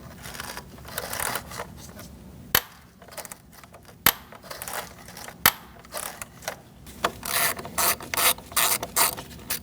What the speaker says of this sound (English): We're going to use a T15 Torx bit to unscrew the screw on the front here